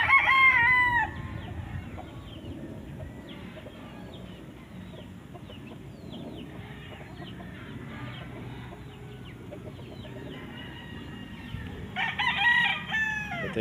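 A Sweater Gray gamefowl rooster kept as broodstock crows loudly and close by at the start and again near the end, with softer clucking and farmyard chatter in between.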